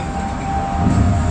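Steady low rumble inside a moving Polar Express themed passenger train from Chicago Union Station, a continuous hum with a faint tone, brief and unbroken.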